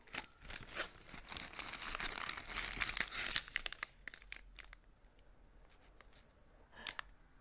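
Packaging of a Temu parcel crinkles and tears as it is unwrapped up close, with loud rustling bursts in the first half, then quieter handling and a few sharp crackles.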